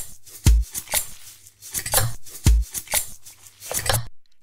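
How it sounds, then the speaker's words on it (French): A knife slicing through a block of butter on a board, several crisp cutting taps and scrapes in an uneven rhythm, close and clear with no talk. "C'est moi qui coupe le beurre."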